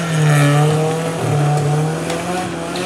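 A race car roars past with a high engine whine and brief tire squeal, loud and close for a few seconds with no voices.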